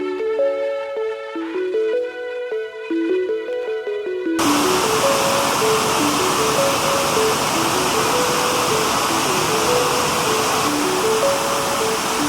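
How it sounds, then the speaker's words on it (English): Lucifer Falls, a 115-foot multi-tiered cascading waterfall, roars as a dense, steady rush of falling water. It is heard beneath a melodic tune that plays alone for the first few seconds before the water sound sets in. "Lucifer Falls is the scenic highlight, with its 115-foot tall, 35 meters, multi-tiered cascading waterfall"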